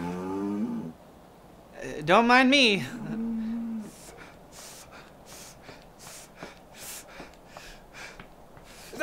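Cattle on a farm give one loud, drawn-out moo close by, followed by snorting and heavy breathing; someone speaks briefly over the start.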